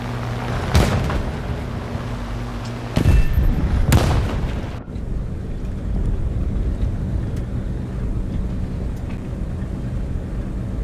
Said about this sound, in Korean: 여기서 폭격을 해보겠습니다 포탄, 투하, 준비 완료